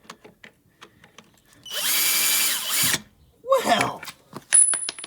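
Power drill fitted with a 1/2-inch wood bit, boring into long studs during a cage install: a loud whirring burst, a short pause, then another brief run, with clicks and clatter of tools around it.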